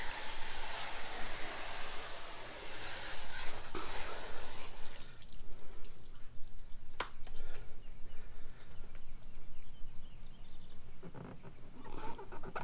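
Water spraying car wash soap off a car's front bumper, a loud rushing hiss for the first few seconds that drops to quieter splashing and dripping, close by, with no talking.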